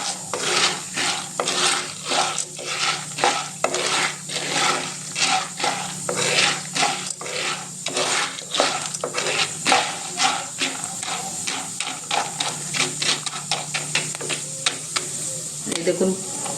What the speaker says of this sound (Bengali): এই দেখুন ফুটতে শুরু করে দিয়েছে, 2-1টা ফুটেও গেছে।